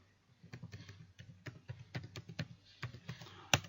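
Computer keyboard being typed on to enter an SQL command in a virtual machine, with quick irregular keystroke clicks that grow a little louder toward the end, closing on one sharper key press, with no talk.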